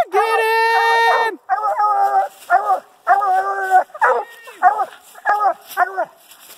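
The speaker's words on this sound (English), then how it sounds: "And Dan's gonna be a coon dog" Coon hunting dog barking and whimpering, a long drawn-out howl first, then a run of sharp yips and whines that come close and loud in uneven bursts.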